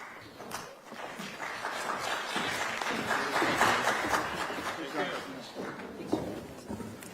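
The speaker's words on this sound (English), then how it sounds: "Let's give them another round of applause." An audience applauds the panelists at a forum on China, freedom and US-Taiwan security, with clapping that builds and then fades, mixed with crowd noise and voices talking over it.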